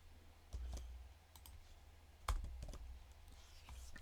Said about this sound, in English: So I'm going to type it all out again.